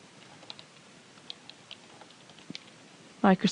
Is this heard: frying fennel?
no